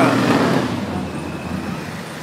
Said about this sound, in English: Got a Lamborghini driving by